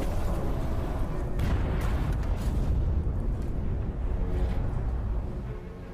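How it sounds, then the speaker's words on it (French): A torpedo strikes a ship at sea during a World War II U-boat attack: a sustained, heavy low rumbling blast with booming bursts and debris, loud throughout and fading slightly at the end. "la torpille d'Encke touche sa cible"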